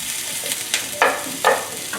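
Onion and sausage frying in a pan for a Taiwanese sausage omelette, a soft sizzle under a few sharp scrapes and clanks of a utensil stirring, close and fairly loud.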